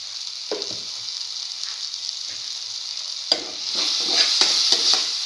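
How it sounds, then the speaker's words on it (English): A spoon stirs and mixes cinnamon-spiced scrambled egg and tomato stir fry in a pan, with steady close scraping and clacks over a continuous frying sizzle that grows louder toward the end. "Thoroughly mix. Mix thoroughly."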